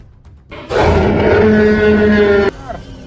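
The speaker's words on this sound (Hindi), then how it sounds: "मुझे किसी जानवर की दहाड़ने की आवाज सुनाई दे रही है।" A deep, sustained animal roar rises suddenly and holds loud and droning for about two seconds, then cuts off, leaving faint background noise.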